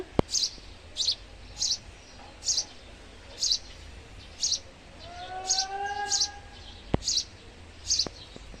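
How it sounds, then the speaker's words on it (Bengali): Small birds at a nest beside a tulsi pot on a home balcony give short, bright chirps in a regular repeating pattern, about ten in a row, with a brief rising whistle partway through, fairly close and with no talk. "এখানে দেখো পাখির কিচিমিচি আওয়াজ শুনতে পাবে"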